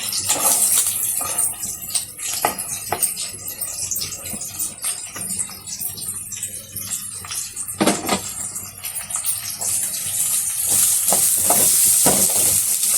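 Curry leaves and onions fry in hot oil in a pan with a loud, continuous sizzle and hiss, broken by occasional scraping stirs and soft knocks of a spoon.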